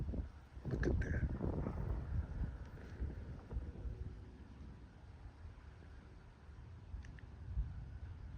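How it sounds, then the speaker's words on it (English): Wind gusts across a farm where livestock are kept, a broad rumbling buffet that swells loudly at first, then eases to a steadier, softer rush. "it's Sunday afternoon and it's still windy"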